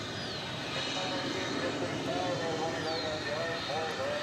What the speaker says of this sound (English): I want to keep showing you the planes coming in